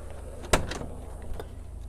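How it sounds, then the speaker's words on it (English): The rear doors of a 2023 Thor Tellaro 20K B-Class RV van on a Ram chassis open with one sharp latch clunk, followed by softer rattles and a lighter knock. "All right, I'm gonna open up these rear doors."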